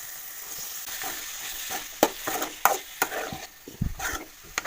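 Cabbage fries in a pan with a soft continuous sizzle as a utensil stirs it, giving sharp scraping knocks at irregular moments against the hiss.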